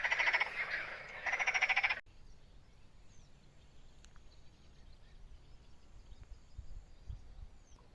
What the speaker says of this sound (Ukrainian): Це жаби квакають в нас.